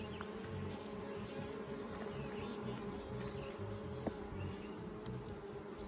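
Honey bees buzzing during a hive inspection, a dense, continuous hum of many insects close by, with a single faint tap partway through.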